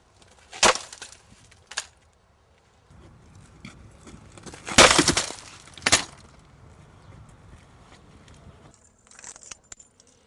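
A firefighter breaks out window glass with a tool, giving a few sharp cracking smashes, then a long rattling scrape of glass being cleared, ending with small tinkling bits.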